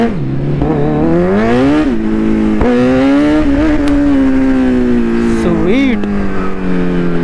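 A Kawasaki Z900 motorcycle roars loudly up close while being ridden, its engine rising and falling through revs and gear changes in a continuous, steady drone.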